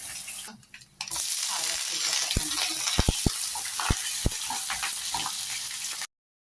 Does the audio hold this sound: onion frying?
yes